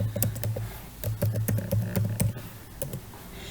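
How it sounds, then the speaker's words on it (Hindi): Quick, close clicks of a computer keyboard as a password is typed into a MySQL command line client, with a burst of rapid keystrokes, a short pause and a few final taps. "अब यहाँ पे हमें पहले पासवर्ड एंटर करना है"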